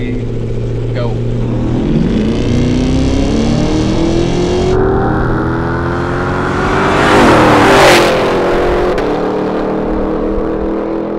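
A Cadillac Escalade V and a RAM TRX accelerate hard in a roll race from about 20 mph, engines revving through rising gear pulls with a loud swelling roar as they pass close, and people talking beneath.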